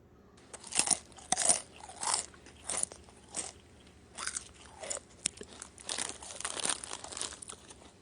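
Raw luffa squash, the largest of several, bitten and chewed with crisp, wet crunches, a cluster of close bites followed by steady munching over several seconds, with no talking.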